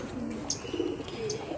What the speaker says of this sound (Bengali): ঘরে অলরেডি উঠতে শুরু করেছে কয়েকজন না, কয়েকটা কবুতর।